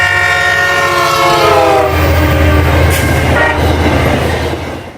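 Nathan K5LA horn on a Metrolink EMD F59PH locomotive blasts one long, loud, steady chord right up close, holding for about five seconds before tailing off, with no voices.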